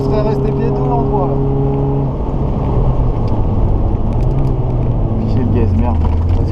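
A classic race car engine roars from close by on the Magny-Cours circuit, holding a steady pitch, then dropping and climbing again as it shifts into third gear, while people talk over the noise.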